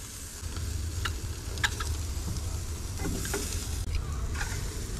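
Sausage bread roasts on a grill with a steady close crackling sizzle, scattered sharp pops and spits rising over a low rumbling background; no one speaks.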